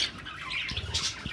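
A pet quail in its cage gives several sharp, close squawks in quick bursts, loud and harsh against a quiet room, with no talking.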